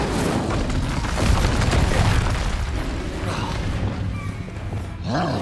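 The Bombarda spell goes off in the video game Hogwarts Legacy, a loud, dense, roaring blast that fills the whole clip with rumbling, crackling noise before it fades briefly and surges again near the end.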